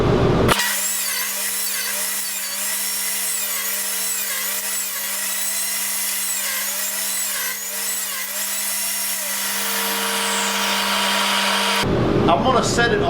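A power saw whines loudly and steadily for about eleven seconds while cutting wall boards for the interior of a homemade RV built from a 1977 Peterbilt 359, then cuts off abruptly, leaving brief handling noise.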